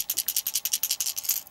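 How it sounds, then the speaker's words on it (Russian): A small Freeway Ramble 61S fishing lure is shaken so its internal rattle gives a fast, even series of light, crisp ticks, close and on its own. "Приманка имеет небольшую погремушечку, то есть такой вот шумовой эффект."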